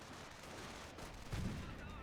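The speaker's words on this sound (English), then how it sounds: "Light AT track is firing downhill, which is not very good in Company Heroes 2" In the Company of Heroes 1 strategy game, a light anti-tank half-track fires downhill: faint, distant bursts of gunfire, louder for a moment late in the clip, over a low background din.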